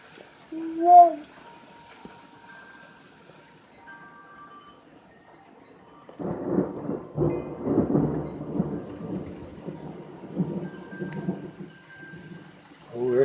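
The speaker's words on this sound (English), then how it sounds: "That's heavy rain coming here." Heavy rain arrives in a windy thunderstorm: after a quiet stretch with a brief knock, a dense roar of rain and gusts swells in and holds loud to the end.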